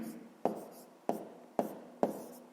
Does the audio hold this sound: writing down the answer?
yes